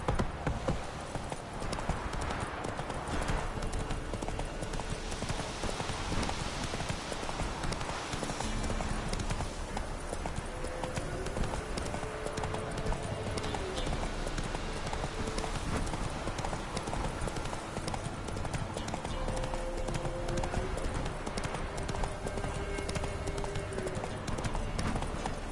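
Roach, a horse in the video game The Witcher 3, gallops with steady, rapid hoofbeats under a dense game soundscape of music and ambience, which continues without pause from start to finish.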